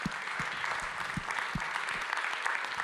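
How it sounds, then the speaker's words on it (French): Audience applause at a closing session of a digital industry conference, a steady dense wash of clapping held at an even level throughout, with a few sharper low thumps scattered through it and no voices. "Je voudrais qu'on l'applaudisse très fort."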